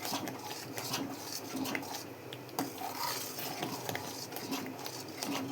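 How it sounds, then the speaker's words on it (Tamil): Black kavuni rice halwa with ghee being stirred in a pan, a steady scrape and clink of a spoon against metal running throughout, close and moderately loud with no talk. "நல்லா கிண்டிக்கிட்டே இருக்கணும்"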